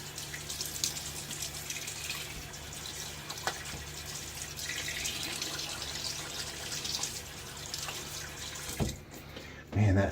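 Tap water runs steadily into a sink to rinse a razor during a wet shave, a continuous splashing wash that holds across the whole stretch with a brief louder burst near the end.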